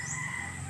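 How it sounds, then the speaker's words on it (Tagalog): Chickens on a home yard, two black and one white, call in a short clucking burst at moderate distance with steady background noise. "Manok yan. May 3 piraso dyan."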